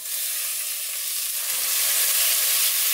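Broccoli hits a hot pan while a broccoli soup cooks, giving a steady, bright sizzle and frying hiss that swells slightly partway through, with faint stirring clicks and no talk.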